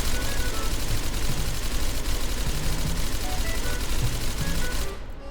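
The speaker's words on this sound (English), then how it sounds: "they can't hear the gunshots while I mow them all down" Suppressed gunfire from a hallway-shooter loadout in SCP: Secret Laboratory rattles in dense, continuous bursts, loud and close, before cutting off abruptly at the end.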